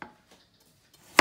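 A knife dices pumpkin into small cubes for a risotto, producing a couple of sharp, close chopping knocks on a board separated by near silence.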